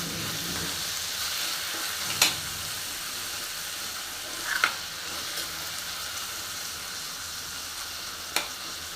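Tomatoes and coriander frying in a tempering, a steady close sizzle with a few brief stirring clinks.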